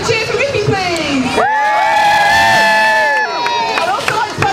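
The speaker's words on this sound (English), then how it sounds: "Everybody a great big cheer for Mickey please" A crowd of adults and children cheers and whoops loudly for Mickey at a Winterton Christmas light switch-on, a sustained burst of shouting after a voice on a loudspeaker.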